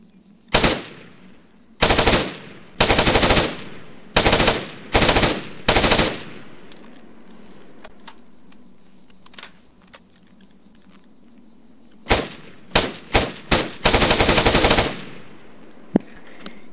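Rifle from an Israel Defense Forces mod in a military video game: bursts of loud automatic fire in several tight volleys, separated by quieter mechanical clicks and clacks of reloading, then another rapid string of shots near the end.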